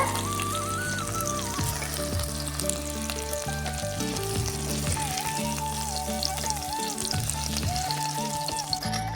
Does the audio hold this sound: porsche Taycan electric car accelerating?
no